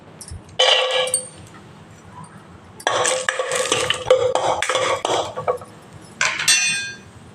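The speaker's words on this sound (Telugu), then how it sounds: "బౌల్ తీసుకున్నాము, ఆయిల్ వేసాను. ఇందులో ఫస్ట్ కొద్దిగా జీడిపప్పు వేద్దామండి." Cashew nuts tumble into oil in a bowl and are stirred with a spoon, giving a quick clatter followed by longer stretches of scraping and clinking against the bowl, fairly close and loud.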